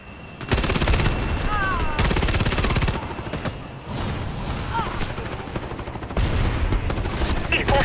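Heavy automatic gunfire in the video game Warface, dense overlapping bursts from several weapons nearly continuous, with short pauses and ricochet whines.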